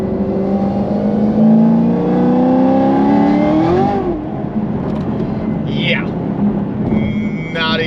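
A Chevrolet Camaro ZL1 on stock tires accelerates in fourth gear at around 40, its engine droning loud and rising inside the cabin, then easing off as someone talks over it.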